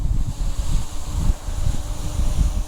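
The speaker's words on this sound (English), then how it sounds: "the wind is blowing in my face" Steady wind buffets an outdoor microphone while a LYZRC L100 drone flies over trees, a loud continuous low rumble with gusty surges, and no voices.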